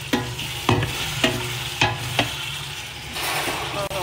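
A spoon stirs tomato sauce cooking in a pan, giving several short, close scraping strokes over a soft, steady sizzle.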